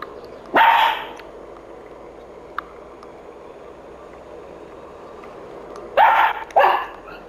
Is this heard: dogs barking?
yes